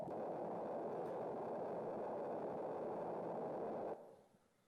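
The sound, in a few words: synthesized sine wave, sci-fi computer thinking sound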